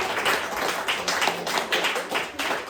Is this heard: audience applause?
yes